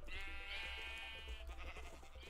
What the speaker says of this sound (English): it creates another white sheep